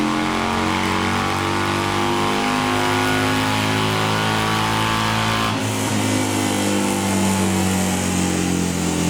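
A Yamaha Bolt motorcycle engine runs on a dyno, a loud, steady, close-up roar with rich throbbing harmonics that shifts in pitch partway through the run.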